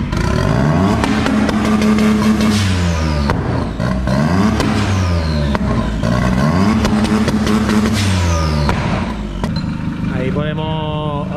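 A compound-turbo Mitsubishi 3A92 engine revs hard on a dyno, loud and continuous, its pitch climbing and dropping in repeated rising sweeps over about eleven seconds, with voices briefly under the roar.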